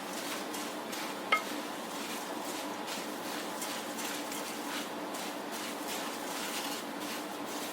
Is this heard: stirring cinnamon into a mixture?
yes